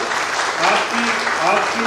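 Steady clapping from the audience at an Urdu poetry gathering (mushaira) in Vadodara, a dense, continuous wash of applause with some talk beneath it.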